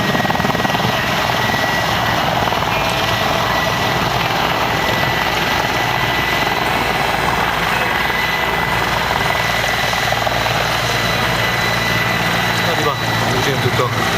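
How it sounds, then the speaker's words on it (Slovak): A helicopter flies at an air show with a loud, continuous rotor and engine roar that holds steady the whole time, while an announcer talks over it. "Unikátne lietadlo, alebo teda vrtuľník, zostaňme pri tomto názve, dokáže lietať do boku"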